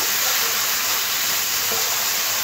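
Spices with salt and a little sugar cooking in a pan for potol (pointed gourd) masala curry give a steady, loud, unbroken sizzling hiss throughout, with no distinct stirring strokes standing out.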